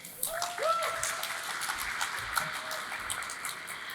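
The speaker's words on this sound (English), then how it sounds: "Let's please give her a round of applause." A tech conference audience applauds a speaker before her talk on FastAPI and OAuth 2.0, with a soft, continuous patter of distant clapping that holds steady for about four seconds.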